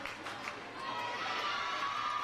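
A big crowd cheers and shouts at a boys' high school basketball tournament final, a moderate, steady roar that swells slightly and holds toward the end.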